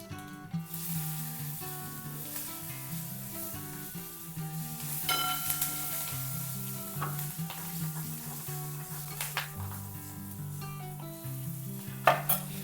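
Turmeric, asafoetida, green chillies and curry leaves sizzle steadily in hot oil for a Maharashtrian tempering, crackling through the whole stretch beneath a layer of tonal background music.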